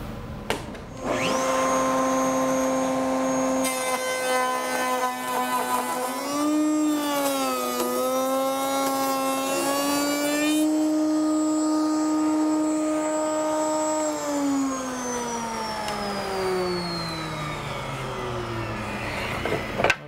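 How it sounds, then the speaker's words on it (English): A power tool in a wood shop machines a 3/8 by 1/2 inch rabbet out of wooden stiles for a grandfather clock, a loud steady whine that spins up, holds with slight pitch dips under load, then winds down slowly at the end. "That's a huge 3/8 by 1/2 inch rabbet that we're machining out of there all at once."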